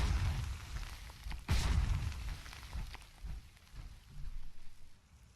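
A sandbag mine blows up when stepped on in a video game: one sudden, broad, muffled blast that lingers as a rumbling wash, then fades into steady noisy game ambience.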